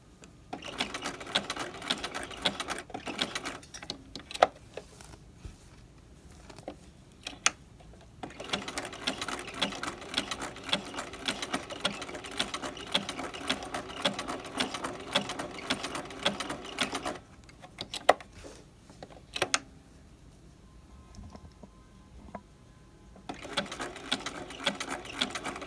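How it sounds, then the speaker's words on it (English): Sewing machine stitching an appliqué seam on lace, steady rapid mechanical whirring in long runs broken by short pauses and clicks, close and fairly quiet. "the other method of sewing by machine where you have the presser foot and you steer it"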